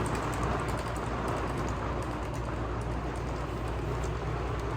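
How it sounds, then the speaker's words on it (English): Heavy pouring rain drums steadily on the roof and shell of an RV, a dense, loud, unbroken wash of patter heard from inside with no voices. "It is pouring rain out there. You can hear it."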